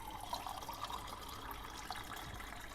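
Water runs from a tank in a steady, even hiss and splash, faint and unbroken for the whole short stretch, with no voices over it.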